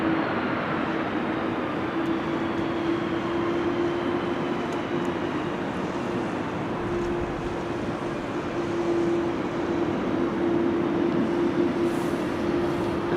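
A KLM airliner lands at Amsterdam Schiphol Airport on a windy, showery day, its steady engine roar and broadband rumble holding constant throughout, with a sustained low tone running underneath.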